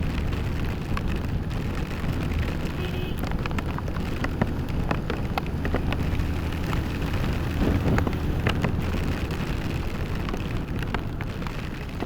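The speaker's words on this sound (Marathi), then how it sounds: "सध्याचं इथलं ॲटमॉस्फिअर म्हणजे खूप पाऊस पडतो आहे" Heavy monsoon rain falls steadily in rural Konkan between Kankavli and Devgad, a dense hiss with scattered sharp drop impacts throughout, no talking.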